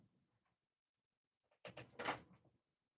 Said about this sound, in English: that's the squeaking noise my chair makes